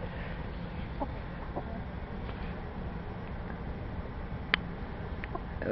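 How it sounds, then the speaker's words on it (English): Chickens in a backyard in Cherryland, California give faint, scattered clucks over a steady background hiss, with one brief sharper call near the end. "I've got a couple more chickens laying eggs."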